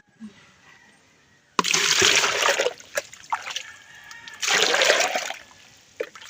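Water splashing and sloshing as someone scoops water from a stream, two loud bursts of splashing separated by quieter trickling and drips, close by.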